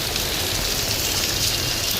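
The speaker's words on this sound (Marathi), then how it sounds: "एवढा पाऊस आहे." Heavy rain pours down outdoors on a street, a dense, loud, unbroken hiss with no pauses and no voices.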